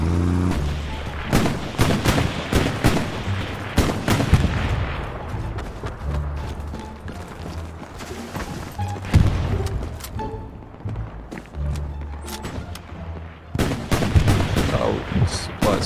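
Rapid bursts of gunfire and heavy booming explosions from the WWII shooter game Hell Let Loose, dense and continuous throughout, with a voice occasionally talking over the battle.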